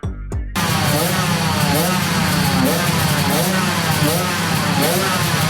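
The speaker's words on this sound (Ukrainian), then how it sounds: "Після останніх приготувань та перевірки мотоциклів спортсмени готові виїжджати на доріжку" Speedway motorcycles run their engines at a track before the race, a dense, steady engine roar with rising revs that starts abruptly after a brief quiet moment and continues loud throughout.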